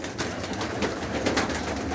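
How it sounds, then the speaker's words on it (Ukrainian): Hungry young pigeons coo in a steady, overlapping murmur, close by and fairly loud, with soft rustling and no talk. "Голодні, да, тут реально голодна птиця"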